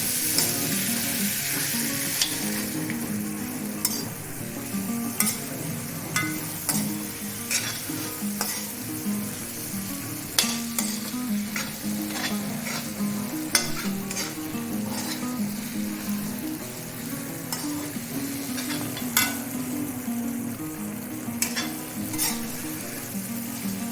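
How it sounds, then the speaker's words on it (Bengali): A fish head being stir-fried with spices in a pan for cabbage muri ghonto: a steady, moderate sizzle runs throughout, broken by frequent sharp clicks and scrapes of a spatula against the pan, with no talking. "আমি মাছের মাথাটা দিয়ে দিলাম। এটা ভালো করে মশলার সাথে কষিয়ে নিতে হবে।"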